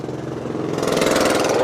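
A tricycle's small motor runs close by near a bridge, a steady buzzing drone that grows a little louder toward the end, with no voices.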